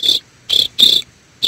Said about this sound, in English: Cricket, cricket.